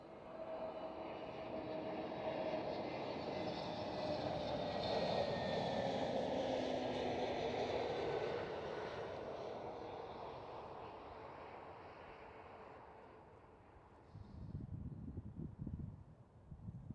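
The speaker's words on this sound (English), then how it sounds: "Right here we do have A321neo, brand new jets" A KLM Airbus A321neo jet rumbles past with a steady broad roar that swells and slowly fades, followed by faint wind buffeting near the end.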